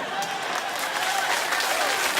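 Studio audience applause on a late-night talk show taping, dense continuous clapping at moderate level with faint voices mixed in, steady for a couple of seconds.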